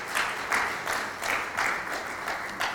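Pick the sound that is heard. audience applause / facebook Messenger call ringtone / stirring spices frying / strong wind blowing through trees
audience applause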